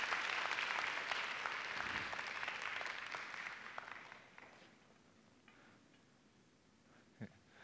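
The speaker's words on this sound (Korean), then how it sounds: "뜨거운 박수를 부탁드립니다." An audience at the Busan Tech+ 2012 talk applauds a teaching assistant after an eye-controlled technology demo. Fairly loud clapping fills the first four seconds, then fades into near quiet with a few scattered claps and clicks.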